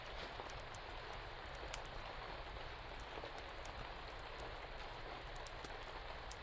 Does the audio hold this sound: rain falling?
yes